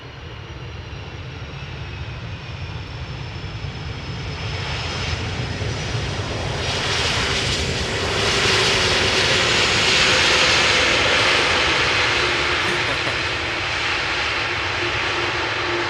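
Jet airliner engines roaring as the plane arrives at Amsterdam Schiphol Airport in windy conditions, a broad rushing whine that swells gradually louder and holds, no voices.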